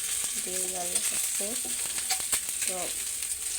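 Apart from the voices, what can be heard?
eggs frying in a pan (egg bhuna)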